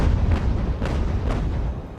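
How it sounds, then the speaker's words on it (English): Broadside cannon fire from sailing warships in Ultimate Admiral: Age of Sail, a dense rolling rumble of overlapping booms with a few distinct blasts, heard without talk. "Second broadside is away for the battle"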